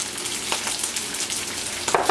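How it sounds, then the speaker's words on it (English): Rice and vegetables sizzle steadily in a hot pan, a constant crackling hiss with a few sharper pops and stirring scrapes, close by and without talking. "Just as everything is frying together"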